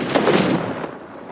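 A Confringo blast spell in Hogwarts Legacy bursts with a loud, booming crackle that fades within about a second, with no voice over it.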